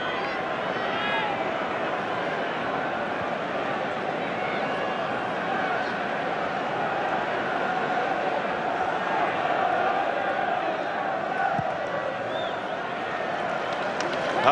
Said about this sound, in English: Listen to this crowd, it's incredible.